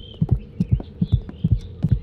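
A rapid heartbeat in a horror game thumps in steady double beats, close and heavy, about five pairs in two seconds, with a faint high tone humming behind it.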